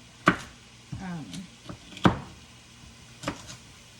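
A knife slicing vegetables for chicken noodle soup on a cutting board, producing a few sharp, separate chops spaced about a second apart, close and fairly loud, with faint rustling between them.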